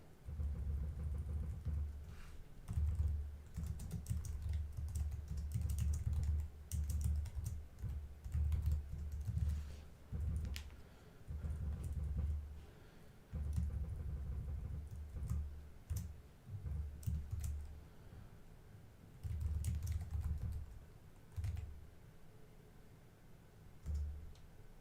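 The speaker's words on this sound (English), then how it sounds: "I'm like pressing the keys pretty hard." A computer keyboard is typed on hard in steady bursts of fast clacking keystrokes, close and fairly quiet, with brief pauses between runs and a low background rumble.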